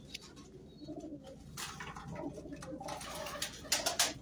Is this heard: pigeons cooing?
yes